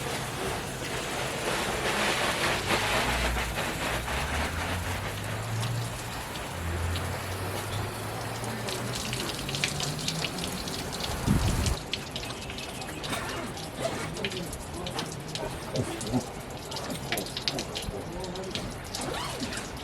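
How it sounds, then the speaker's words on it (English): Water is sprayed hard and sideways onto a rooftop tent, giving a loud, continuous hiss and patter against the fabric for the whole stretch, with a brief thump partway through. "we were spraying it pretty hard and spraying it sideways"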